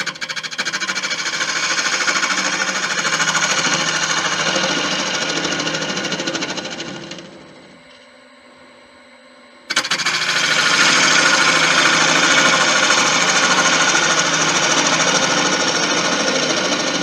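Wood lathe turning a Malaysian acacia sapwood napkin ring base, a loud steady whirring drone that drops away briefly as the machine slows, then surges back to full speed, with no talk.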